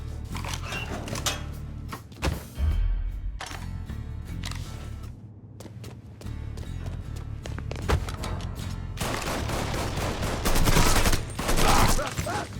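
Rapid bursts of gunfire in a Mafia 3 video game shootout, sharp cracks and volleys that stop and start, thicken into a heavy barrage near the end, and come with brief voice sounds.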